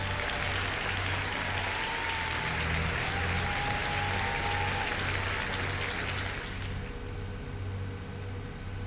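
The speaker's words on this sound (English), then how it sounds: "Give a round of applause." A crowd applauds steadily and loudly for several seconds, the clapping cutting off abruptly near the end, with a low hum underneath.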